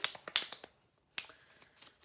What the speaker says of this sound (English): we're just going to keep kind of shuffling them up